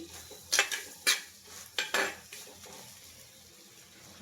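Bitter gourd curry stirred in a metal pot, a few sharp clinks and scrapes of a spoon against the pot in quick bursts, then a quieter faint bubbling simmer.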